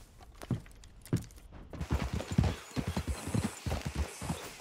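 Several horses' hooves clip-clop steadily on hard ground in the video game Red Dead Redemption 2, a busy overlapping rhythm of close, loud steps with no voices.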